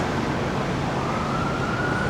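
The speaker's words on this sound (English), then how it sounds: "No, its sirens are still blaring." An ambulance siren blares along a downtown Toronto street near Dundas Square, a loud continuous wail with a slowly sliding pitch over steady traffic rumble.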